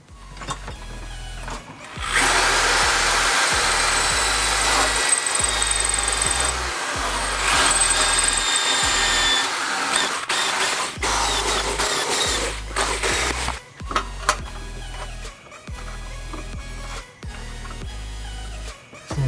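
A high, whirring power drill runs in long bursts on a car firewall, with brief pauses, loud and close, with clanks and knocks between runs.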